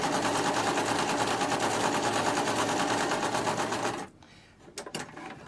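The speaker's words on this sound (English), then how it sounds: "So we're doing that top stitching, and that's just along the edge" A sewing machine top stitching along the edge of a fabric napkin, a fast steady mechanical chatter running close and loud for about four seconds before stopping, followed by a few small clicks and handling sounds.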